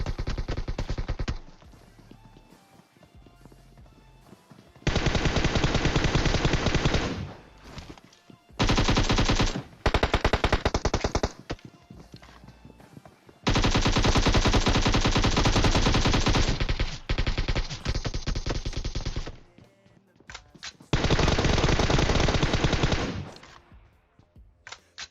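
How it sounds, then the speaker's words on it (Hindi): Machine gun fire in a shooter video game, with long sustained bursts of rapid automatic shots separated by brief pauses and quieter gaps, loud and close. "मेरे ख्याल से यार जबरदस्ती बंदा गोली चला रहा था।"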